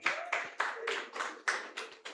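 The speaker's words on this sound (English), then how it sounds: "Please, a round of applause for her." Applause at a conference session, a thin, sparse round of hand claps in uneven bursts, fairly close and modest in volume, with no talk.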